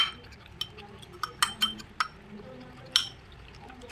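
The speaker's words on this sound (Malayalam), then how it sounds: "ഇത് നന്നായിട്ട് നമുക്ക് മിക്സ് ചെയ്തെടുക്കാം." Coffee powder, sugar, honey and milk being stirred together for a face pack, heard as several sharp spoon clinks against a small bowl, scattered over a quiet background.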